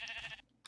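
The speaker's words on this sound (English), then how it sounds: "we got a pink sheep" A pink sheep in Minecraft gives one short bleat, close and clear, then falls quiet before a brief sharp sound at the end.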